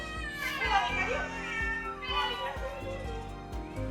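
Several cats meow repeatedly in a home full of rescued cats, overlapping mews rising and falling close by while people talk and children's voices are heard in the background.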